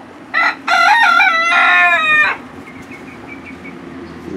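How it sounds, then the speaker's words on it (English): A chicken among digging farm hens lets out two loud squawks followed by a long crow close by, then quiet barnyard background. "Oh, I'm pissing that chicken off."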